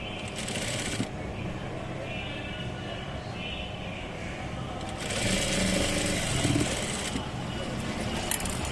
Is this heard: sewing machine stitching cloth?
yes